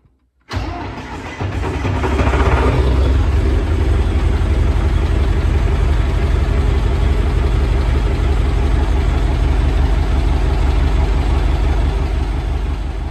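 A freshly reassembled tractor engine cranks and catches abruptly after a moment of silence, then settles into a loud, steady, rumbling idle that continues evenly to the end, close up and with no voices.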